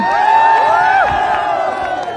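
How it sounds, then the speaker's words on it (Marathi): A crowd at a political rally cheers and applauds loudly, with shouting voices rising over a dense wash of clapping for a couple of seconds. "अभिनय जाधवच्या अकोल्याला जोरदार टाळ्या"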